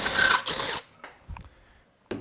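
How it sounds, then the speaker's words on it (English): A power drill driving holes into a board for wiring gives two loud, short whirring bursts separated by a brief gap, then quiet handling clicks before the motor starts again at the end. "go ahead and do our drilling the same way."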